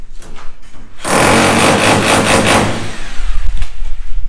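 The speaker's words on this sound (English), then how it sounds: "the jackhammer, the portable jackhammer that they're using on one side" A portable jackhammer chips plaster in a master bedroom under construction in the Philippines, giving a loud, harsh burst of about a second and a half, then a rougher, lower rumble.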